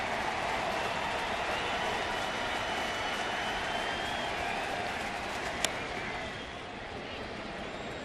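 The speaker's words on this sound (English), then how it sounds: "Crowd now comes alive." Baseball stadium crowd at a Rockies at Cardinals game rumbling and cheering steadily, a broad wash of noise with a single sharp crack partway through, easing slightly near the end.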